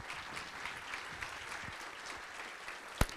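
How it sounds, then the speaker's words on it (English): Audience applause for visionary leaders at a regional vision launch event, a steady wash of many hands clapping at moderate distance, with one sharp louder clap near the end. "please give these visionary leaders a round of applause"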